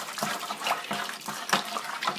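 Wine kit juice stirred vigorously in a fermenter, rhythmic sloshing and swishing liquid in repeated strokes, close and fairly loud, no voices.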